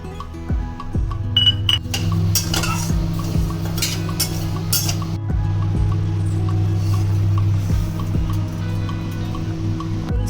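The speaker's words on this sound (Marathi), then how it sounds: "एक वाटी तांदूळ पण घ्यायचा आहे तो पण व्यवस्थित भाजून घ्यायचा आहे" Rice being dry-roasted in a hot kadhai for thalipeeth bhajani, a spoon scraping and clinking against the pan in steady irregular strokes over a low continuous background hum.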